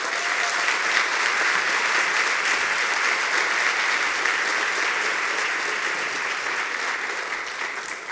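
Dense, continuous applause from a large audience at a game conference award ceremony, steady and loud throughout with no voices standing out.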